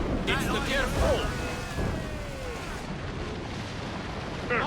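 Ship cannon fire in Assassin's Creed Rogue: loud booming blasts and rumbling explosions against a dense battle din, with voices shouting over them.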